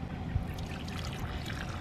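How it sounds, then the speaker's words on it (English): Water trickles and pours briefly nearby, a soft splashing stream into a dog's water bowl with faint background noise. "I gotta put the water in it first"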